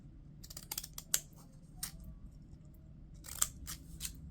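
Scissors snip apart old paper postage stamps in several quick crisp cuts, close and isolated against a quiet background, with pauses between bursts.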